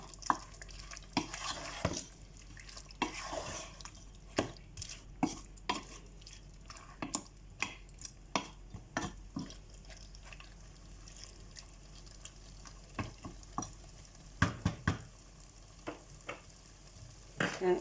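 Aair fish curry with potatoes and flat beans simmers quietly in a pan, with soft bubbling and a string of clicking stirs and scrapes spread across the stretch.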